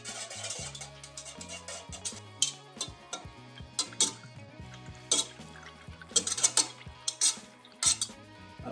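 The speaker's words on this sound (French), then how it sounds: "nous pouvons venir prendre notre petit fouet et puis brasser encore le mélange" A small whisk stirs oils in a container while making avocado soap, giving quick metallic clinks and scrapes in uneven bursts against a low tonal background, with no talking.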